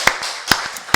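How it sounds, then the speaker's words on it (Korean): Sharp hand claps from a congregation at a Korean church worship service, several distinct strikes spaced unevenly across a second, with no talk. "우리 박수로 하나님께 영광 드리겠습니다"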